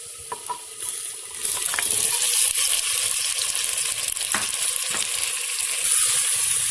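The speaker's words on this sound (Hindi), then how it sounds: "मटन को मैं थोड़ी देर के लिए प्याज के साथ फ्राई करूँगी" Mutton frying with onions for a matka kunna gosht: a loud, steady sizzle that swells after a quieter start, with occasional stirring scrapes and pops and no talking.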